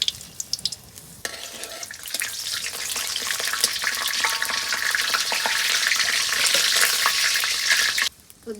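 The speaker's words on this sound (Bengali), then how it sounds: "গরম হয়ে গেছে, দিয়ে দিব সাদা তেল, শুকনা মরিচ, তেজপাতা, গোটা জিরে, দারচিনি, এলাচ।" Dry chilli, bay leaf, whole cumin, cinnamon and cardamom frying in hot white oil, a steady loud sizzle with stirring scrapes that swells and holds for several seconds, then cuts off near the end.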